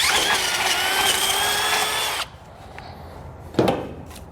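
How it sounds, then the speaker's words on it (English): A drill bores a hole through the steel frame of a 2021 Jeep Wrangler, a loud whining grind that cuts off abruptly, followed by quieter handling noise and a brief metallic clatter. "we're just going to start off with a little bit smaller drill bit there, go up a couple sizes here until we get the final size of 9/16 of an inch"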